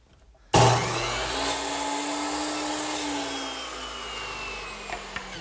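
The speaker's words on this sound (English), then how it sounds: "I'll cut them right here on the miter saw" A miter saw starts abruptly and whines loudly through a cut in wooden rails for a bedside table, holding a steady high drone with a slight pitch sag before spinning down toward the end.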